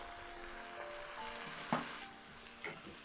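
Vegetables for chicken macaroni fry lightly in a pan, a soft steady sizzle with a couple of brief louder bursts as they are stirred.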